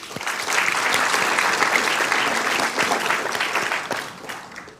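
Audience applause at a city council meeting, a full round of dense indoor clapping that swells quickly, holds steady for several seconds, then tapers off at the end.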